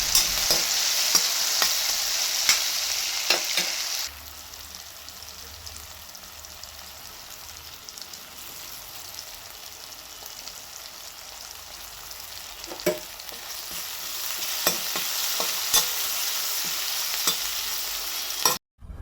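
Tomatoes frying with turmeric in a pan while being stirred, a steady sizzle broken by the scrape of a spoon, livelier and brighter for the first few seconds and then settling to a softer hiss with occasional clinks.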